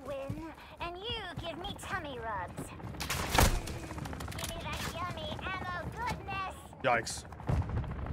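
Shots ring out in Call of Duty DMZ, with one sharp loud crack and lighter scattered fire, mostly underneath steady excited talking.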